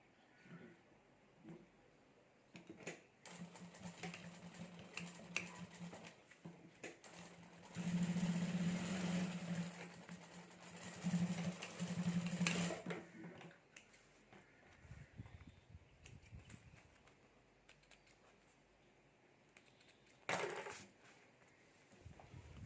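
Sewing machine stitching along the side of a handmade clutch bag, a steady mechanical whirr in two main runs lasting several seconds each, separated by short pauses, moderately loud and close, with clicks and handling noises between.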